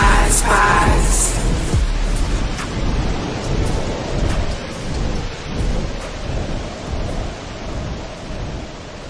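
A thunderstorm with loud, continuous rain and low rolling thunder, rumbles swelling and fading across the whole stretch, heard alone with no voices.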